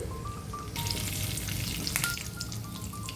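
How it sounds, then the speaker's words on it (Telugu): Mustard seeds, cumin and curry leaves hit hot oil and erupt into a loud, bright, crackling sizzle that starts abruptly and holds steady up close, with some faint spattering pops and no talk. "ఆయిల్ వేడయ్యాక ఆవాలు కొద్దిగా జీలకర్ర వేసుకోవాలి అలాగే కొద్దిగా కరివేపాకు కూడా వేసుకొని ఫ్రై చేసుకోవాలి"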